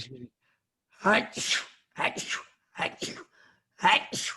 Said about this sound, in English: I have a tendency to sneeze in bundles